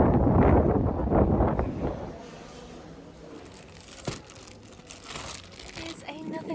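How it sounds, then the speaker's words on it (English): Strong gusts buffet outdoors around a van, loud rushing bursts at first easing into a lower steady rumble with scattered rattles and crinkles. "Still ridiculous levels of wind"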